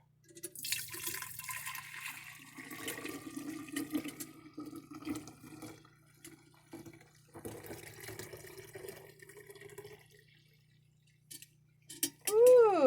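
Fresh goat milk is poured into a half-gallon glass jar, giving a soft, continuous liquid trickle that rises and falls for several seconds before a brief brighter ring near the end.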